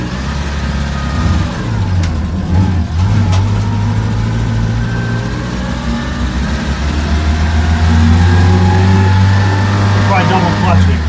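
A 1948 Crosley CoBra wagon drives and swings through a U-turn, its small engine droning steadily and close with low revving that rises slightly near the end, while someone talks over it.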